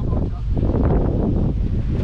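Strong wind on Hydra island in Greece buffets the microphone with a dense, continuous low roar, loud and unbroken throughout, masking everything else.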